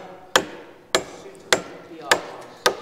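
A 16mm stud is hammered into a hole in a timber barn frame with oak pegs, five sharp, evenly spaced hammer blows ringing out close and loud.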